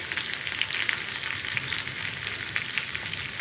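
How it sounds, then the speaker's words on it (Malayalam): Sliced onion and dried red chillies frying in oil in a pan, a steady close sizzle and crackle with small spitting pops throughout, no voices. "ഉള്ളിയുടെ കൂടെ തന്നെ നമുക്ക് വറ്റൽമുളക് 2 എണ്ണം ചേർത്ത് കൊടുക്കാം."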